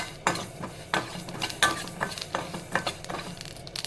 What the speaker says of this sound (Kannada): ಇದನ್ನು ಸಾಸಿವೆ ಚಟಪಟ ಸಿಡಿಯೋದಂತ ಹುರ್ಕೊಳ್ಳೋಣ.